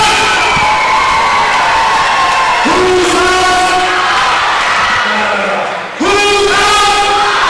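A loud crowd cheers at an OAC college basketball tournament game between Mount Union and Heidelberg, with shouting and whistling voices swelling, briefly dipping near six seconds, then surging again.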